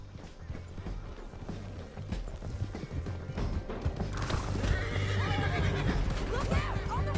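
Horse neighing and hoof clatter in the Red Dead Redemption 2 video game, whinnies rising over a busy mix of galloping, mechanical creaks and in-game voices, growing louder toward the end.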